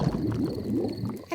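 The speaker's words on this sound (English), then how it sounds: "My tummy rumbling is one of the best sounds of nature." A stomach rumbling in a cartoon scene: a low, bubbly gurgle with wobbling, squelchy pitch sweeps, moderately quiet and continuous, with no talking over it.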